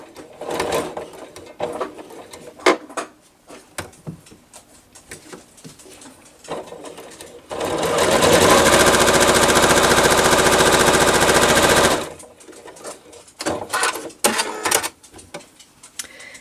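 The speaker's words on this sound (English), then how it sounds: "Now that I have my 2 lines sewn on both sides of that drawn line" A sewing machine stitches half square triangle quilt pieces a quarter inch from drawn lines, running in one loud, steady burst of about four seconds mid-clip, framed by quieter fabric handling and clicks before and after.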